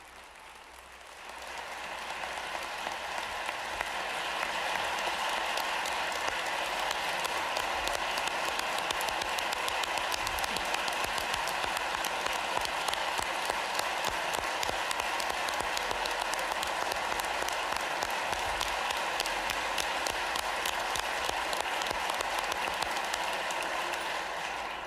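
A large audience at Governor Shapiro's 2026 Pennsylvania state budget address breaks into sustained applause, a dense, even wash of clapping that swells in and holds loudly for over twenty seconds.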